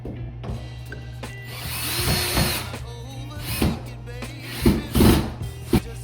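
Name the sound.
screwing self-drilling anchor into wall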